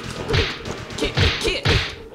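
Kicks and strikes from Guile in the arcade fighting game Street Fighter: The Movie, three punchy whooshing thuds at roughly half-second spacing, up close, with game sounds between them and no voice.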